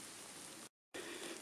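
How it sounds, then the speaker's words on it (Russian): Rain falling in a forest during a July mushroom hunt, a faint, steady patter with a short break of silence in the middle. "Идет дождь."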